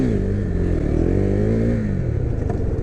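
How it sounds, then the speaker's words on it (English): A 2017 KTM Duke 390 motorcycle engine hums close and steady, its pitch rising and falling slightly as it is revved, loud and alone without talk. "I love the way the bike sounds, I have to say again."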